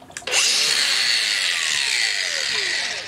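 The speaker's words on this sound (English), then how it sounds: "an even better option is an angle grinder" A high, steady whine of an angle grinder smoothing metal runs for about three seconds after a brief start-up, loud and close with a slowly falling pitch near the end.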